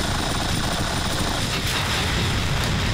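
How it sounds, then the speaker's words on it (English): A helicopter in Grand Theft Auto 5 near a yacht roars steadily and loudly, mixed with dense gunfire and explosions, with no voices. "I'm such a noob with a helicopter"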